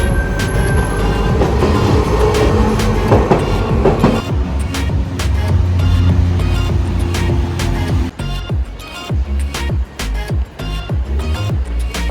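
A tram rolls along rails in Japan with a loud, continuous rumble, scattered clicks and clacks from the wheels, and a faint squeal early on.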